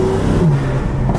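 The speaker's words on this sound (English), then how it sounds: "you can hear the spool up a lot now" BMW F80 M3 with catless downpipes and a single midpipe, turbo spooling up with a loud, close exhaust roar and rising whine over a short burst.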